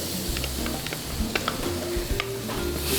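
Garlic sautéing in a home kitchen pan, giving a steady close sizzle with light stirring scrapes and a few utensil clicks, with no talking.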